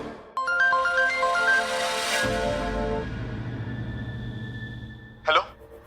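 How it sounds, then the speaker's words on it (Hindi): A phone ringtone plays a bright melodic sequence of rising tones, then continues as a quieter sustained tune under dramatic background music, ending with a brief sharp burst in a Hindi TV serial scene. "उठाओ शौर्य, फोन उठाओ, फोन उठाओ शौर्य।"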